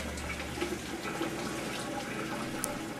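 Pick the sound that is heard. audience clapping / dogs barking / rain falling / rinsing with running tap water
rinsing with running tap water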